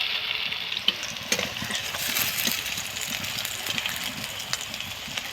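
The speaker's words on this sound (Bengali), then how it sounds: "এই রকম করে প্রত্যেকটাকে ভাজতে হবে তেলের মধ্যে।" Vegetarian mock fish pieces, first parboiled and now reddened, fry in hot oil with a steady close sizzle and crackle, a few sharp pops and light stirring clinks rising above it.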